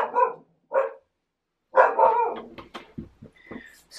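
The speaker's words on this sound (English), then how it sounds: "The dog has taken to barking at buses from the couch when she can hear them going past." A dog indoors barks from the couch at passing buses, giving a few short, sharp barks and yips, some spaced apart and others in a quick cluster, fairly close.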